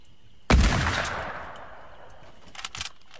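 One sharp, loud gunshot in a shooter video game, a heavy boom with a long decaying tail, followed about two seconds later by a few small clicks and rattles, with no talking during the clip.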